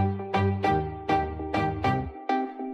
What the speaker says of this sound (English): we're going to go to the string plucks right at the beginning.